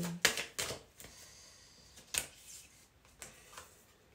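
A deck of cards is shuffled by hand, with a few sharp, close papery flicks and riffles scattered through a short, otherwise quiet moment.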